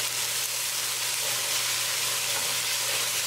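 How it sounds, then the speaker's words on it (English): Tomato sauce cooking with tadka of browned onions in a pan for lamb curry, a steady continuous sizzle and bubbling fry at close range with no talking. "Cooking tomato sauce with tadka for 1 minute."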